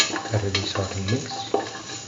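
Garlic and salt stirred in a frying pan, a spoon scraping in repeated strokes over a soft sizzle, close and steady with no voices.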